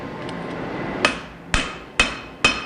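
Hammer blows forging a wootz steel knife blade ring out four times, sharp and loud, with a steady background hum between the strikes.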